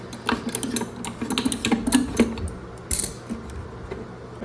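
A Sloan Flushmate pressure-assist toilet cartridge is unscrewed by hand, giving a quick series of plastic clicks, ratcheting ticks and scrapes at close range over a faint low hum, with no talking.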